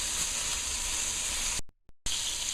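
Food frying in a pan while cooking Multani soup, a steady broad sizzle and hiss throughout, cut off briefly by a short silent gap before resuming, close and without talk.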